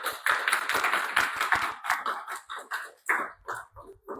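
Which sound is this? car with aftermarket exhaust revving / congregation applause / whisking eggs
congregation applause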